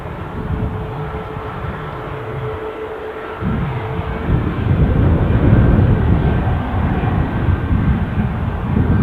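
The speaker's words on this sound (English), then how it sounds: "So I see a Ryanair trundling out." A Ryanair airliner taxiing out at Dublin Airport, a steady jet engine rumble and whine that swells louder partway through, heard from nearby.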